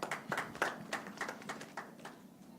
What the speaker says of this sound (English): maybe a more enthusiastic clap for our panel